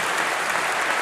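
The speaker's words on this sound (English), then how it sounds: "So could we also give them all a round of applause, please?" Applause for professors and staff at a university summer congregation ceremony, a steady dense wash of many hands clapping at even volume through the whole short stretch, with no voices over it.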